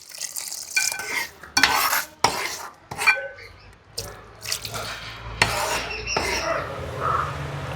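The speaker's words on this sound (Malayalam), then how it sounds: "നമുക്ക് ഇച്ചിരി വെള്ളം തിളച്ച വെള്ളമാണ് ഒഴിക്കേണ്ടത്." Boiling water poured into a chicken kurma curry pot and stirred, with scraping spoon strokes and liquid sloshing in irregular bursts, close and fairly loud, no talking.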